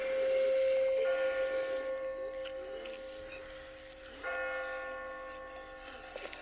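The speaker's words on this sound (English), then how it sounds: "I just got spooked by those bells" Church bells ringing inside The Walking Dead video game, a sustained tolling with shimmering overtones that swells loudly at first, fades, then strikes again midway before trailing off, with no talking.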